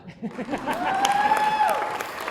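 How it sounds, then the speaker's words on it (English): Applause and cheering from a crowd at a comedy ladies' night in a club, a steady wash of clapping with a high whoop rising over it and scattered voices mixed in. "another round of applause for my friends that didn't actually shoot"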